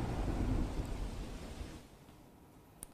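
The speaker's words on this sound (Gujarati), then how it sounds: "માણાવદરમાં મોડી રાત્રે ધોધમાર વરસાદ, માણાવદરમાં અલગ અલગ જગ્યા ઉપર ભારે વરસાદ." Heavy late-night downpour in Manavadar, Junagadh, with thunder: a deep rolling rumble swells and fades over dense rain hiss, loud at first then easing, with one sharp drop or knock near the end and no voices.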